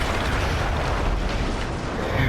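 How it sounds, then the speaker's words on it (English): Loud, continuous roaring blast from a destroyed gun in the Battlefield 1 campaign game, a dense, broadband rumble holding steady across the whole short stretch. "That explosion was one of the sweetest sights of the war for me."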